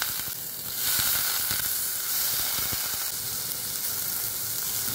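Rice sizzles hard in hot oil with turmeric and asafoetida while being sautéed for masale bhaat, a loud dense hiss that swells after the first second and holds steady with light stirring clicks underneath, no talking.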